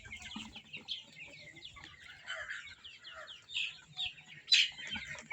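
Roosters on a chicken farm cluck and chirp in scattered, short bursts, fairly faint and spread out, with one sharper call standing out near the end.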